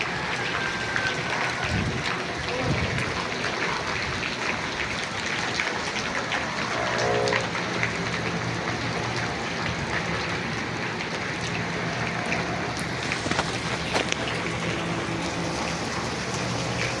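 Rain falls steadily outdoors during a long wait on a rainy day, a continuous dense patter with occasional louder drops, moderately loud and unbroken throughout.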